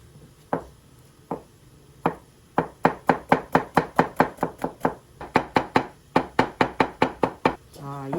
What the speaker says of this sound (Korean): 이렇게 돌려깎기 한 이제 호박도 무처럼 똑같이 채를 썰 거예요